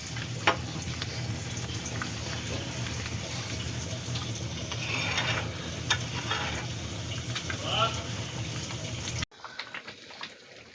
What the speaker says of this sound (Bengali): বন্ধুরা দেখো ডালটা ফুটে উঠেছে।